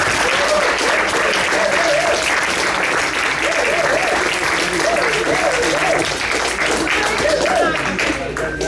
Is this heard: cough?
no